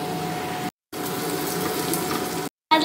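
Sliced onions dusted with chilli powder fry in a pan, giving a steady close hiss and sizzle that cuts out twice in brief silent gaps, with no voices.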